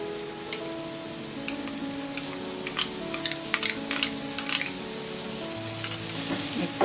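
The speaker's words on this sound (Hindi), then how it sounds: "अब हम इसमें डालेंगे ये स्प्रिंग ऑनियंस," Spring onions and spring onion greens sizzle and scrape as they are stirred into a pan for restaurant-style veg sweet corn soup, a steady frying hiss broken by frequent utensil clinks, close and alone.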